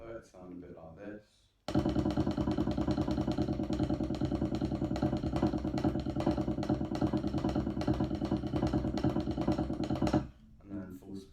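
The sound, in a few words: drum rudiments played at medium tempo, paradiddles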